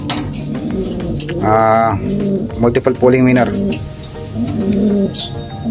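Racing pigeons coo in a loft, their rolling calls repeating near the microphone while someone talks over and between them.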